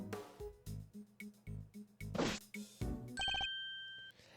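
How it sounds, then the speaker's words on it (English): Electronic phone ringing in the Ace Attorney Investigations video game: a rhythmic series of short, bright ring bursts, then sustained chime tones, with no talking. "The moment the phone rang"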